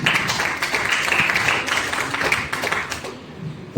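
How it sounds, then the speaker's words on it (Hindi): An audience claps at a motivational talk with steady, dense applause filling the whole stretch, easing slightly toward the end. "जोरदार तालियां होनी चाहिए।"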